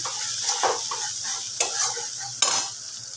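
Katla fish curry masala sautés in a pan with a close, continuous sizzle, broken by three distinct scraping stirs of a spatula at regular intervals.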